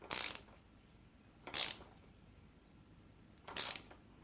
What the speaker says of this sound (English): Now the tightening torque for these is 23 Newton meters. We have a torque wrench just ready to do that.